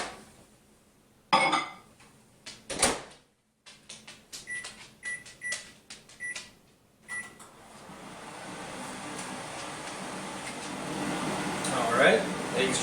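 Microwave heating an egg to poach it: a few clicks and short beeps, then a steady droning hum that swells and holds through the end, with faint clinks near the close.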